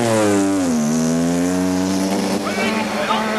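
Turbo-engined Formula One cars from the 1984 season race past, a loud sustained engine drone that rises and then settles, with a voice talking over it.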